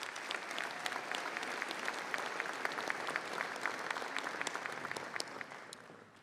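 An audience at a county sports hall of fame banquet claps for collegiate athletes of the year, a steady dense patter of many hands that fades toward the end.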